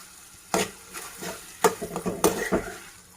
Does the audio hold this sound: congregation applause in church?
no